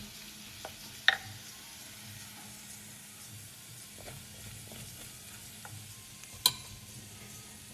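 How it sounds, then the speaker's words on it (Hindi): Gram flour (besan) being roasted and stirred with spinach in a pan: a soft, steady sizzle under occasional scraping taps of the spoon, with a couple of sharper clinks standing out, no voices. "अब इसमें मैं 1 चम्मच बेसन डालूंगी और उसको भूनूंगी।"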